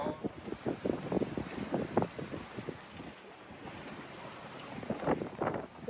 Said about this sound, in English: The wind is slowly increasing, but so far everything is fine.